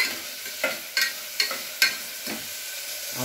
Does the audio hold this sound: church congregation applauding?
no